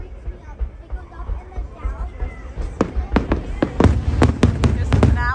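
Fireworks finale over Magic Kingdom at Walt Disney World heard from the Big Thunder ride area: a rapid series of loud, sharp bursts and crackles that builds in density and volume, with crowd babble and chatter murmuring underneath.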